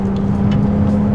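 Ferrari 296 GTB V6 engine droning steadily at close range, a loud continuous sporty engine note with slight fluctuation over a short burst and no voices.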